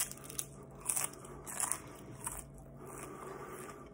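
Someone bites into a frozen palmetto bug, a cockroach, giving several short, sharp crunches close to the ear, spaced about half a second apart, then fading into quieter chewing.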